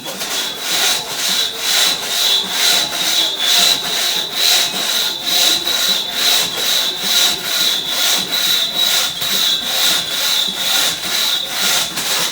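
A hand saw cuts through an 11-inch white oak log set on a standing block, with steady, rhythmic rasping strokes about twice a second, loud and close, running continuously with no talk.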